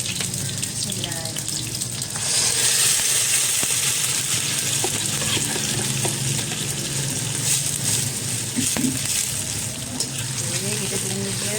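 Blended spice paste hitting hot oil in a pan for black pepper beef, a loud steady sizzling hiss that swells after the ingredients go in and continues with stirring scrapes.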